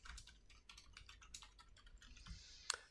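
A Git commit message being typed on a computer keyboard: quick, irregular clicking keystrokes close to the microphone, fairly quiet, with no voices.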